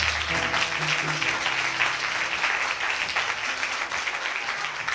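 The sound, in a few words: church congregation applauding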